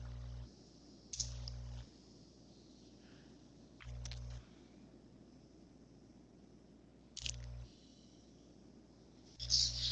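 Four sharp, isolated computer mouse clicks, spaced a few seconds apart over a quiet low hum, with no talking.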